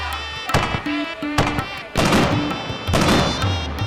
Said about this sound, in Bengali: পূব পাড়ার আতশবাজি খুব বিখ্যাত।